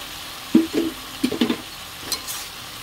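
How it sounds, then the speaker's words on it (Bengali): Ground pea lentil paste with bottle gourd and coriander powder being stirred in a pan, a few soft scraping strokes and light sizzling bursts close by, with quiet gaps between them. "এবারে ভালো করে কষিয়ে নেব।"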